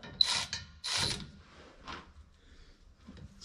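An 8mm ratchet loosens the bolts on a driveshaft center support bearing. It gives two close bursts of clicking and then a fainter, shorter one, each separated by quiet pauses.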